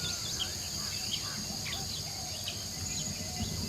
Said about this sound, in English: The largest group of animals living in the jungle is busy.